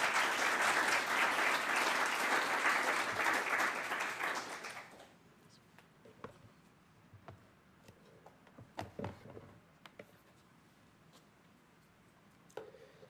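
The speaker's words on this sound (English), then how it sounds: "Let's give another round of applause to Manton and Jean." A conference audience at a tech summit applauds loudly after a talk for about five seconds, then the clapping stops abruptly, leaving a quiet room with scattered soft clicks and small noises.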